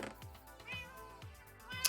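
Cats meowing in a Minecraft game, a quick series of short, faint mews repeating every half second or so.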